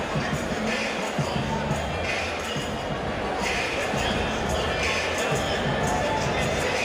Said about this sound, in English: huge crowd on hand to see our main event